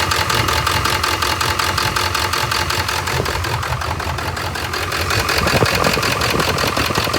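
A 2000 Ford F350 pickup's 7.3 Powerstroke diesel idles steadily with a loud, continuous rattling clatter and a rhythmic knock, heard close up throughout with no talk.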